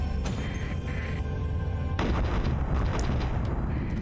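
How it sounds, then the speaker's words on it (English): Space battle in the game Starsector: a continuous dense rumble of distant explosions and weapons fire, steady and loud throughout, with no talking. "that's just the sound effect of the battle happening"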